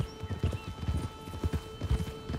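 A horse's hooves clip-clop in a steady walking rhythm, moderately quiet and close, amid the open-world ambience of Red Dead Redemption 2, with faint birdsong and no talking.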